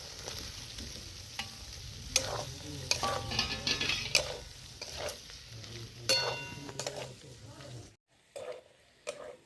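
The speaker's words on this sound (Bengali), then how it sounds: "আলু আর পেঁপেটা ভালো করে মশলার সাথে কষিয়ে নিয়েছি" Fried potatoes and papaya are sautéed with spices and a cashew-sesame paste for a papaya paneer dish. A steady sizzle runs under frequent spatula scrapes and taps on the pan, then drops away near the end, leaving a few faint clinks.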